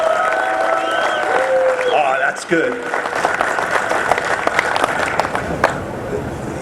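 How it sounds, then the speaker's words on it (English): Audience applause at a live event honoring April DeVito, a steady wash of clapping and crowd noise mixed with a short spoken remark. "So can we get a little bit more applause for April?"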